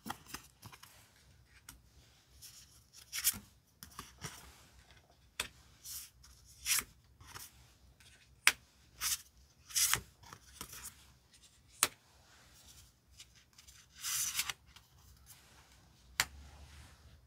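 Tarot cards are handled and picked out one by one, making a string of soft, brief papery slaps and rubs with quiet gaps between them, heard close and alone without any talk.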